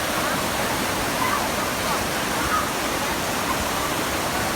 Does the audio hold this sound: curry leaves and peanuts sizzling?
no